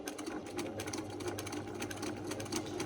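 A sewing machine doing free-motion crosshatch quilting runs in a steady rapid stitching rhythm, close and continuous, alone.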